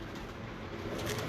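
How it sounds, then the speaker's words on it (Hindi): Pigeons in a breeder's loft give soft, low cooing over a steady, faint background hum, with a slight swell near the end. "अब्दुल्ला यार, ये कबूतर का कलर माशाल्लाह बड़ा प्यारा है"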